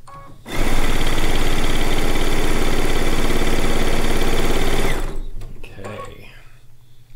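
A Solaris sewing machine, its embroidery arm removed, runs in one loud, steady, fast stitching burst for about four seconds, then stops, leaving quieter handling noise and room sound.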